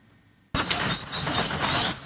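Newly hatched pheasant chicks on a pheasant farm give a dense, loud stream of high, thin chirping that starts abruptly after a brief silence and continues steadily.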